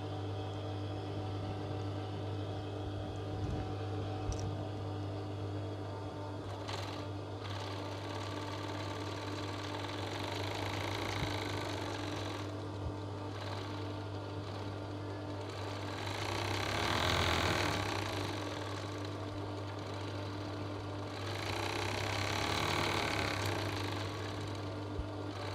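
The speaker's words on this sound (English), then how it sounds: "So it's just simply a case of overlocking round." An overlocker sewing machine runs round the edges of cushion fabric panels, giving a continuous low motor hum and whir with slight swells in intensity throughout.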